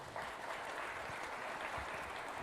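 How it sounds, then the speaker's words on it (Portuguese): An audience at a business conference breaks into applause, a soft, fairly distant wash of clapping that holds steady for a couple of seconds with no voices over it. "Uma salva de palmas para ele, por favor."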